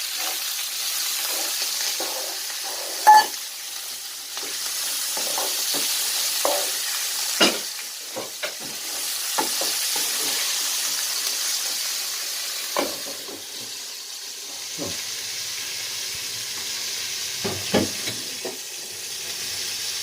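Green peppers stir-fried in a pan for Turkish sausage pasta, a steady frying sizzle with intermittent scraping and stirring clicks from a spoon against the pan, close and moderately loud throughout.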